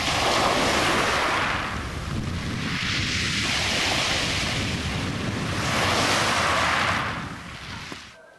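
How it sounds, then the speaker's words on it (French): Surf breaks on the black pebble beach at Nonza, Corsica, a loud, close roar of waves that swells and recedes in slow surges, mixed with wind buffeting the microphone, and no voices. "Nonza et sa célèbre plage de galets noirs."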